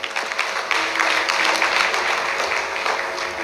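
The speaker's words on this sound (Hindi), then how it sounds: "एक बार ताली होनी चाहिए इसके लिए।" A crowd applauds with steady, dense clapping that stays loud and even throughout and sounds fairly close, with no talk over it.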